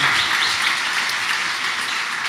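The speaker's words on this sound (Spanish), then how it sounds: "¿Quisieras aplaudir eso?" Congregation at a church sermon on Christ's resurrection breaking into applause, a steady wash of clapping filling the short stretch with no voices over it.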